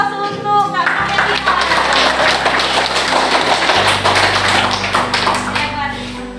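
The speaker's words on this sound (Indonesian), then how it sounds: "Kasih aplaus untuk Kak Novel" A classroom group applauds for Kak Novel during a primary lesson, lively, quick clapping of many hands lasting several seconds over a steady background music bed.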